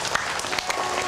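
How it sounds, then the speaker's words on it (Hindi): An audience at a Hindi satsang claps loudly together, a dense, sustained burst of applause with a few sharper individual claps standing out. "हाथ कहते हैं ऊंची ताली बजाओ"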